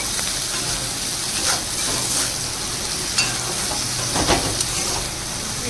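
Okra seasoned with salt and turmeric frying in a pan, a steady close sizzle broken by scraping stirs and occasional clinks of a spoon against the pan, with no talking.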